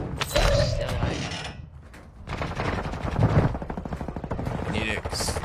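SMG gunfire in a battle royale shooter game, rapid-fire bursts rattling over a dense mix of game effects and background noise, fairly loud.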